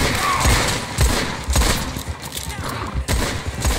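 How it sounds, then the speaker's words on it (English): Video game gunfire during a combat mission: scattered sharp shots and short bursts crack irregularly, mixed with thuds and a voice talking over the action. "Come on, shooting at me."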